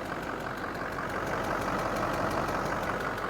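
A worn diesel engine idling steadily with a slight knocking noise, a continuous moderate rumble with no talk over it.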